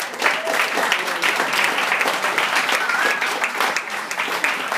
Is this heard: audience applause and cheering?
yes